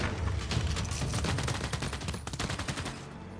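Machine gunners open up in a World War era battle in the Civilization VI strategy game, a loud continuous rattling burst of rapid gunfire lasting several seconds and fading slightly at the end.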